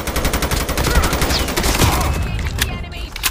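Rapid bursts of gunfire from the video game Call of Duty, loud and close, with dense repeated shots running continuously through the moment.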